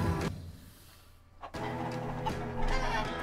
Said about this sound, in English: Out of my way, chickens!